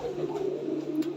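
Pigeons cooing in a low continuous throaty murmur, close and steady, with no talk over it.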